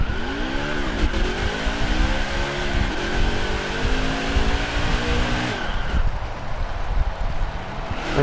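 A game car's engine roars loudly with rising and falling harmonic sweeps, squealing tires running continuously beneath, cutting off abruptly near the end.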